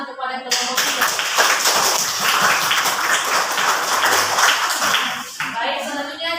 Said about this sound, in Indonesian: silakan berikan semangat tepuk tangan kepada kelompok